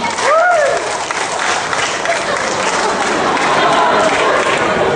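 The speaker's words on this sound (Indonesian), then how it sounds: "tepuk tangan untuk semua" Audience applause and crowd noise at a motivational talk, a dense steady wash of clapping lasting throughout, with a brief whistle-like tone near the start.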